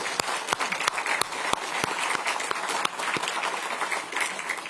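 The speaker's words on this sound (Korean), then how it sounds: "큰 박수 한번 보내주십시오." An audience at a party meeting gives a strong ovation, dense clapping that carries on without a break, with a few sharp louder claps standing out close by.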